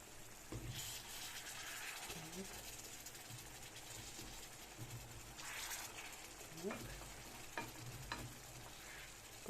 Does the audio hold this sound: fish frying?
yes